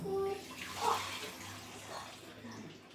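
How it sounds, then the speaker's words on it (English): Water pours into a cooking pot for tulingan paksiw, a close rushing splash that tapers off over a few seconds, with faint background voices. "Then after that, you add water."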